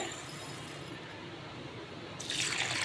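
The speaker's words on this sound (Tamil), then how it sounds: "தண்ணி ஊற்றி ரெண்டு மூணு தடவை நல்லா கழுவிடுங்க" Steady rushing of water poured into a container to rinse lentils, continuous and close, growing brighter and louder near the end.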